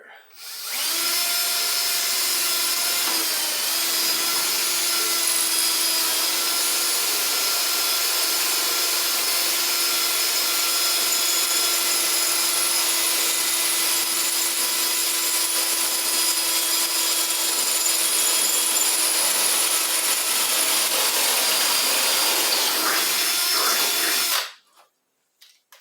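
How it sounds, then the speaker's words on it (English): A power drill bores a hole for mounting a pop-out headlight on an Avro Speedster, one long steady whine lasting over twenty seconds before stopping abruptly. "So I'm going to drill another hole right here."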